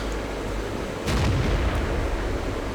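A tank cannon in World of Tanks fires one loud, booming shot with a sharp blast, then a rumbling tail over steady engine noise.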